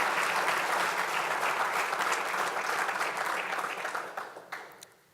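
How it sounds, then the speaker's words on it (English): An audience at an annual meeting applauds in a full, steady round of clapping that holds for a few seconds and then thins out to scattered claps and fades. "I'd like to have a round of applause for you guys"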